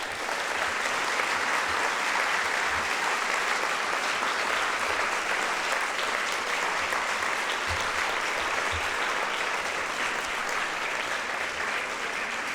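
Warm, sustained applause from a lecture audience at the Louvre welcoming academician Barbara Cassin, a steady wash of many hands clapping throughout with no talk.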